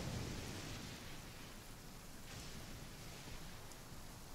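Steady rain falls and water splashes in the video game Genshin Impact, a dense, even hiss of rainfall with a faint low rumble, with no talking.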